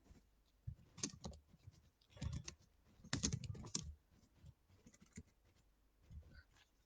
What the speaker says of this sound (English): Just gonna type something in the comments here.